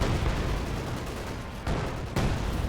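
A bundle grenade blast in the World War II strategy game Company of Heroes 2: a dense, continuous roar of battle noise with two sudden sharp jolts near the end, loud and broad, without voices.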